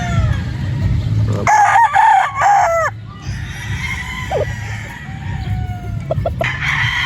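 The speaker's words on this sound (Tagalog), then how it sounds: "may nakita tayo dito, isang Gilmore Henny ni Sir James Oy." Gilmore gamefowl on a fruit farm, a rooster crowing loudly nearby while hens cluck around it, with another shorter crow and clucks following over a rustling outdoor background, no talking.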